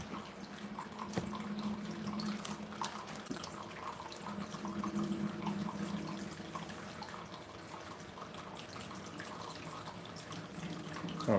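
A water fountain splashes continuously at moderate distance, a steady rushing and trickling wash with occasional louder drips, playing on an outdoor cinema screen with no talk.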